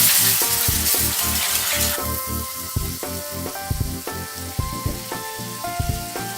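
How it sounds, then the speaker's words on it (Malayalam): Vinegar poured into chili powder frying in oil in a pan for amla pickle: a loud hissing burst for about two seconds, then a calmer sizzle with rhythmic stirring scrapes and taps, no talk. "ഇനി ഇതിലേക്ക് 2 ടേബിൾ സ്പൂൺ വിനിഗർ ചേർത്ത് കൊടുക്കുക"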